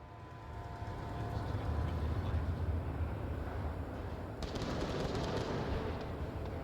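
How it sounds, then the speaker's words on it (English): Gunfire in a tactical shooter video game, a dense rattling burst of rapid shots held at steady loudness, with a sharper crack near the end. "Shots coming out from North Impact there."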